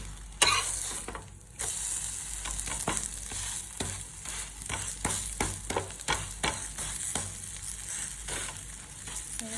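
An eggless bread omelette fries crisp in a pan, with continuous soft sizzling and repeated scraping and pressing strokes from a spatula, close and moderately loud, without speech.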